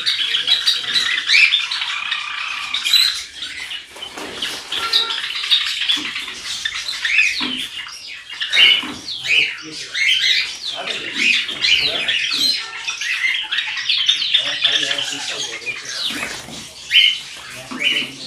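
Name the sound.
java sparrows chirping in cage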